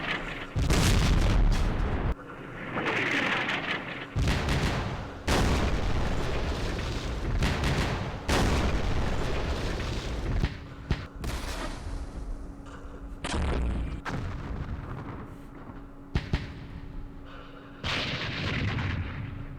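Artillery fire in the Campaign Series Vietnam video game during the Dien Bien Phu battle. Repeated heavy booms and blasts land one after another at uneven intervals for the whole stretch, loud and close.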